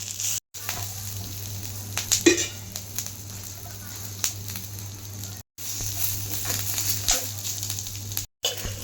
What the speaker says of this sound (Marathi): हे बघा मस्त इथं कांदा भाजतोय.